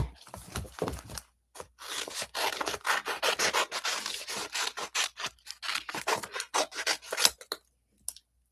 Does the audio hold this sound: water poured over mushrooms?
no